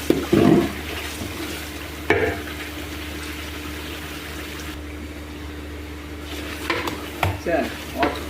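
Beef cooking in oil in a pot as it is stirred, with a soft steady sizzle and occasional louder scraping and clanking of the spoon against the pot, alone without talk.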